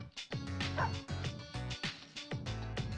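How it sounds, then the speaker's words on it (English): In the Persona 3 Portable video game, a pack of stray dogs barks and yips in rapid overlapping bursts, loud and close, with whimpering sounds mixed in over a musical background. "You've suddenly been surrounded by stray dogs."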